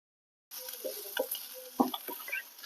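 After a short silence, onions sautéing with a little salt crackle and sputter in a pan for a shark curry, with scattered stirring taps and small pops close by.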